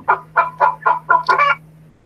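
A flock of chickens clucks in six close, loud bursts, evenly spaced and rising into a busier overlapping cluster at the end, over a steady low hum, with no talk.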